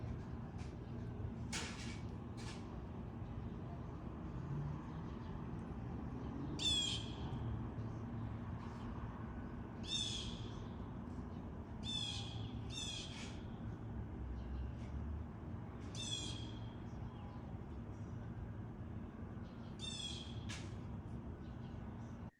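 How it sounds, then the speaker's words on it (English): Two blue jays in a tree outside a window scream back and forth, harsh raspy calls repeating every couple of seconds, distant and faint over a low steady hum. "I saw there were two blue jays screaming at each other in the tree outside my window"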